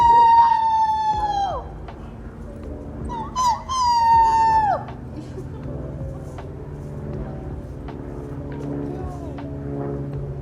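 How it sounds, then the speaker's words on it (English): A person howls at the moon outdoors, giving two long, wavering wolf-like howls that rise, hold and fall, the second after a short pause, with a fainter third trailing off against steady background hum. "I also went to go howl at the moon outside"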